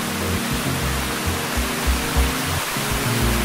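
Water rushing in a stream or small waterfall beside a mountain bike trail on Thasos, a loud continuous broadband roar without pause, with low rumbling pulses underneath and no speech.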